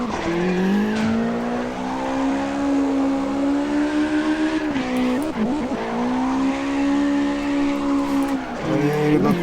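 In the CarX Drift Racing video game, a car drifts with a sustained engine drone and long tire squeals that rise and fall through the slides, loud and continuous, with a brief break midway.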